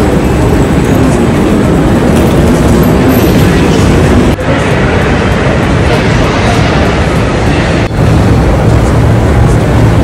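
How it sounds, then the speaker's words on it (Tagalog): A train ride in Paris heads toward the Arc de Triomphe, with a loud, continuous rumble and rattling of the rail car filling the whole stretch. Two brief clunks sound along the way. "Sasakay kami ng train papunta doon."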